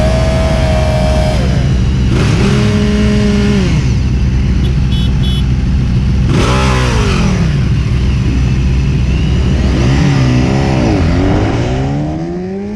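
Ducati motorcycles launch one by one from a track starting line, loud nearby engines revving hard and climbing through gears in repeated rising sweeps, with other bikes rumbling in the background.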